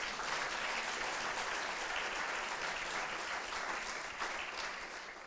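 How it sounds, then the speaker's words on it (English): Awards ceremony audience at a health management closing event giving steady, full applause for the shortlisted papers, even and sustained throughout before easing slightly at the end. "an applause for all of them"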